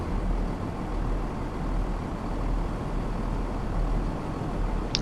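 Simulated diesel train engine in Train Sim World 5 straining under full power while barely moving, a steady low rumbling drone holding constant for the whole stretch with no talk.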